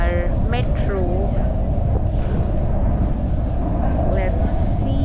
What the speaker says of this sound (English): since it's windy, it means here comes our metro